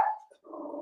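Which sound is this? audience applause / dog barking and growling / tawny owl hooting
dog barking and growling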